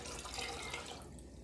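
Water pours steadily into a pot as a soup base is made, a continuous close splashing and trickling stream heard alone without any talk.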